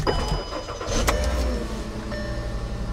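A Volkswagen Beetle cranks briefly and catches, settling into a loud, close idle at an auction yard.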